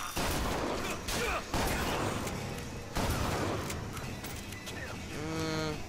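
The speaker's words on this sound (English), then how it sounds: "Okay, we'll try you running with the shotgun." Shotgun blasts in BioShock Infinite, loud repeated booms through dense game combat noise, with players talking over the action.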